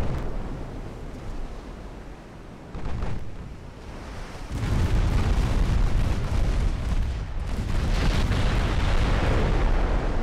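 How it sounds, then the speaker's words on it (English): Torpedo hit on a warship in the naval game Ultimate Admiral Dreadnoughts, a deep rumbling explosion that swells and holds as a loud sustained roar, with smaller booms rolling underneath. "Oh, yeah, that's a torpedo hit."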